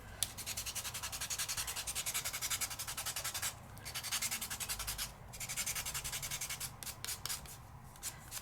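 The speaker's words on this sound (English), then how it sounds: "I'm going to sand my pink real quick" A pink metallic colored pencil tip is sanded to a sharp point, producing steady rhythmic scratchy rubbing strokes, close and fairly quiet, with a couple of brief pauses.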